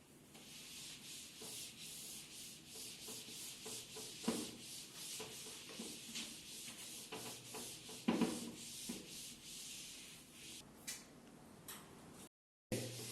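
Writing is rubbed off a classroom board with steady back-and-forth scrubbing strokes. The strokes are close and rhythmic, with a few knocks, and no one talks.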